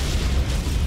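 A TNT blast in the action game Lara Croft and the Guardian of Light, a sustained low rumbling boom filling the whole moment, fairly loud with no voices.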